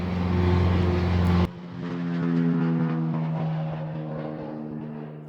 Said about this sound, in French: C'est des petits avions privés, voilà. Donc c'est le même qui fait des tours depuis tout à l'heure.